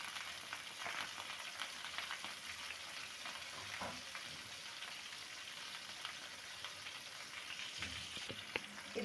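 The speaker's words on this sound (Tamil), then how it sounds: "இதை கொஞ்சமாக உப்பு சேர்த்து வதக்கி விட்டுக்கலாம்." Onions and green chilies sautéing in hot oil for chicken sukka, a soft, steady sizzle and crackle with occasional stirring scrapes, close and moderately quiet, with no talking.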